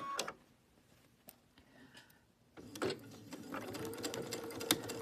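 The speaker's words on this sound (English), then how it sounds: "So I'm ready to sew." A sewing machine stitches an inner border strip pinned to a quilt border piece, starting after a few quiet clicks and handling sounds and then running in a steady, fast mechanical whir up close.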